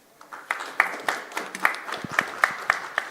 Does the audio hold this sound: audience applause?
yes